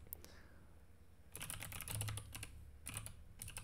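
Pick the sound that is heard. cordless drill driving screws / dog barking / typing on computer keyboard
typing on computer keyboard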